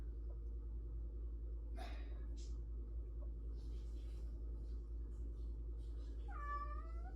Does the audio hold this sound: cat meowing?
yes